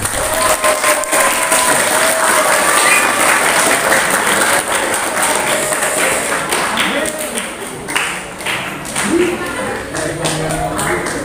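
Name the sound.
audience applause at school event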